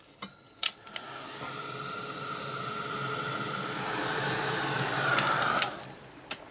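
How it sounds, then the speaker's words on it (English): A heat gun blows hot air over an art journal page, a steady, close hiss and whoosh that runs for several seconds, framed by a few sharp clicks at the start and end, with no talking. "Heat gun."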